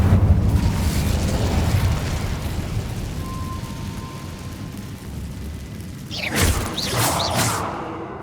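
Incendio fire spell in Hogwarts Legacy: after a low rumbling ambience, a sudden whooshing fiery burst erupts near the end with crackling flare-ups, loud and close.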